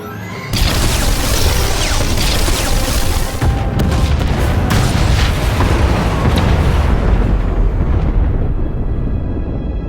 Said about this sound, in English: Step 1. Blow the junctions.